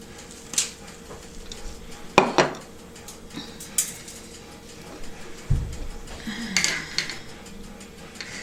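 A tres leches cake pan being flipped onto a plate, with scattered clinks and knocks of dish and pan, a couple of sharper taps and a soft low thud, all fairly quiet and close.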